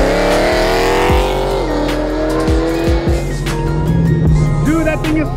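A BMW M3 with a straight-piped exhaust and a flame tune revs hard and loud, its pitch climbing and falling through several sharp blips and pops. Excited voices are heard over the engine.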